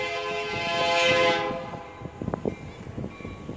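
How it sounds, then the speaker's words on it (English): A Canadian National coke train's horn blares loudly, then fades as heavy rail cars rumble and clatter past nearby at a rail junction tower in Fostoria, Ohio. "here comes yet another train"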